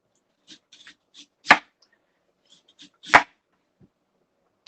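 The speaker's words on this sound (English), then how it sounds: "And you're just chopping off the skins," A knife chopping the tough skin off a swede, with two sharp, loud cuts among several lighter taps and scrapes, spaced irregularly in a quiet kitchen.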